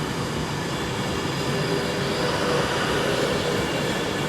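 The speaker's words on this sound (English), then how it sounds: "There's another Avanti Pendolino coming up as well." An Avanti Pendolino train passes at Stafford on the West Coast Main Line, a steady loud broadband rumble and rush holding constant throughout, with no talking.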